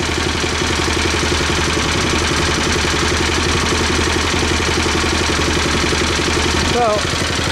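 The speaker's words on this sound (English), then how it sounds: "let's throttle up the pump and see what happens." An engine-driven pump idles on a job site beside an IBC tote being turned into an agitation tank, giving a loud, steady, low mechanical drone that runs unbroken throughout.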